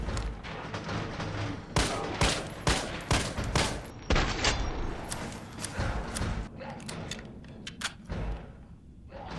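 A G18 pistol fires in Resident Evil 3 Remake, with rapid bursts of gunshots in quick, uneven clusters, loud and close, amid game effects and thuds.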